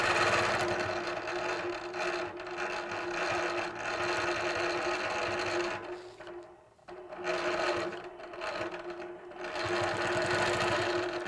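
A longarm quilting machine stitches stacked arcs on a quilt border with a template. It runs as a fast, steady mechanical whir with rapid needle chatter, pauses briefly, then starts up again close by, with no talking.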